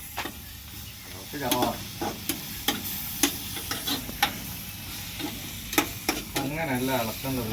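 Food sizzles in a pan with sharp intermittent clinks and scrapes of stirring, fairly close, with a voice heard faintly at times.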